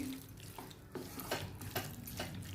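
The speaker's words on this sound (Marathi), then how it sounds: "मी थोडंसं असं पाणी घालून घेते" Water is poured into a frying pan of stuffed calamari, a short splashing pour with sizzling and faint clatter of cookware, close and moderately loud.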